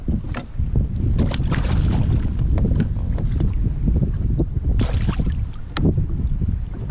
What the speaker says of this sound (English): The wind has been horrible.